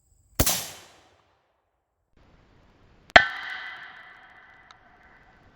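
A Springfield Krag-Jorgensen .30-40 rifle firing at an AR500 steel armor plate: a sharp bang, a pause of a few seconds, then a second loud crack with a bright metallic clang that rings and fades slowly.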